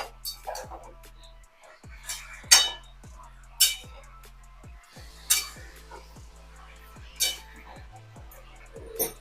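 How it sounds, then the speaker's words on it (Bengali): Fish head and spices stirred together in a pan for a Bengali Malabar spinach curry, with a utensil clinking and scraping against the metal in irregular strokes over a low steady hum. "এবার আমি সবগুলো একসাথে নেড়ে নিচ্ছি"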